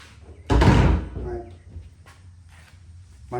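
A wooden interior door being handled during hanging, with one loud heavy thunk and clatter near the start, followed by quieter knocks and a muffled bump toward the end.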